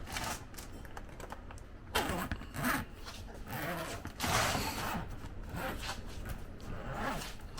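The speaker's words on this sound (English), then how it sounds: "So let's unzip this bad boy." Zipper on a soft cooler pulled open in a series of quick ratcheting zips with short pauses between, close and fairly loud, no talking.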